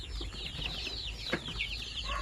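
Chickens cluck steadily in a brooding area where chicks hatched in an incubator are raised, with a continuous chorus of fowl calls over a low background rumble and one sharper close call midway.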